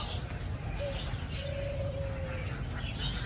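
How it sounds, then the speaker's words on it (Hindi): A small bird caught in a net gives a thin chirp followed by a longer, drawn-out call, faint against steady background noise, with no talking. "चिड़िया"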